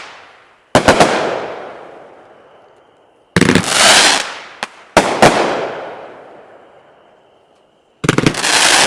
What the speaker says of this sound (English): There goes the shells. They're going right now.